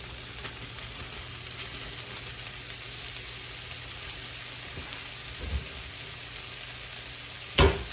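Rice fries in vegetable oil in a pan, giving a steady, dense sizzle like rain that runs throughout, with a few soft stirring scrapes and a sharp clank near the end.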